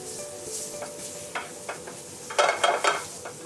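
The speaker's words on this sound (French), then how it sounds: "Là, l'échalote, je la fais revenir" Shallot softening without colour in a frying pan for a Brie de Melun sauce, a soft steady sizzle with a few stirring scrapes, louder bursts of frying toward the end, close by with no talk.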